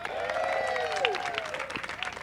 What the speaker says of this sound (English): Let's give a big round of applause to Mr. Frank Florig,